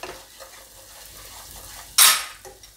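Coriander-cumin powder and turmeric are stirred into hot oil in a pan over a low gas flame for a stuffed raw tomato curry. A soft sizzle runs under light stirring, then one sharp, loud scrape of the spoon.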